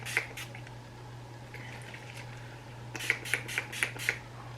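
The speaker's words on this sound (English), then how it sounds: "I'm gonna take my Urban Decay All Nighter makeup setting spray" Urban Decay All Nighter makeup setting spray misted close by in a couple of short pumps, then a quicker run of five crisp spritzes, over a steady low hum.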